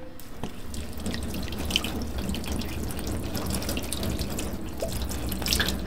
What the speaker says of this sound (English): Let's rinse these things off and see exactly where we're at.